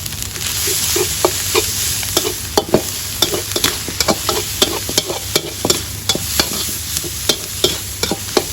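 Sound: stir-frying with spring onions added

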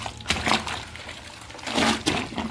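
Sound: white shirt being put into cold water

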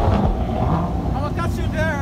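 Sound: supercar engine starting up

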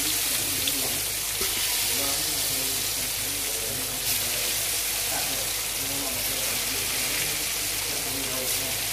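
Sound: spiced tapioca frying in hot oil

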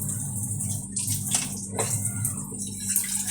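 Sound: washing bitter gourd under running water

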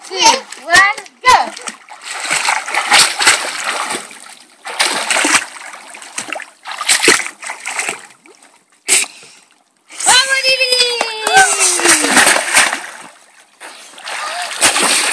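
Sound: child splashing while swimming in water

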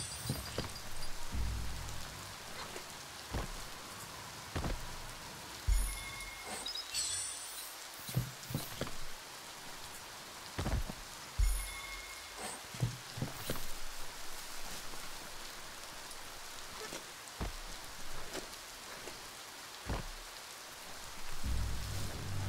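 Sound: rain falling in the video game Biomutant

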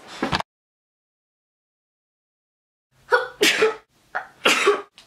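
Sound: sneeze

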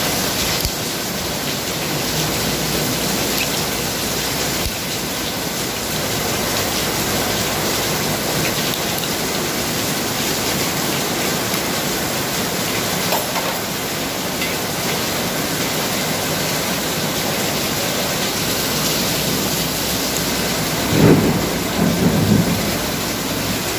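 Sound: heavy rain with thunder

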